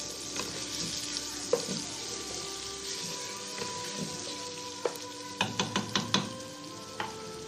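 Masala with chopped tomatoes frying on a medium flame, a soft continuous sizzle broken by clinks and scrapes of a spoon against the pot, some in a quick run near the end, with no voices.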